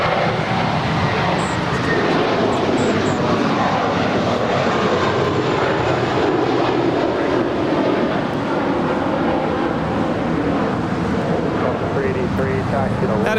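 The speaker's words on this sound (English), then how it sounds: "That is JetBlue Airways 524 departing to New York. It's an Airbus A321." A JetBlue Airbus A321 departs Los Angeles for New York with a loud, sustained jet roar, and voices can be heard beneath it.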